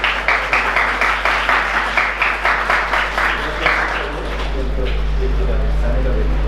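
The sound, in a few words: applause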